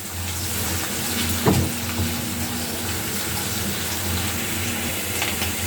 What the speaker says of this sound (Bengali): তোমার পেঁয়াজটা ভাজা ভাজা হয়ে গেছে।